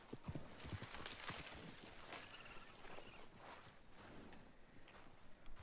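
Horse hooves clip-clop in a steady walking rhythm in Red Dead Redemption 2, close and continuous, with faint, evenly spaced tonal game blips running alongside.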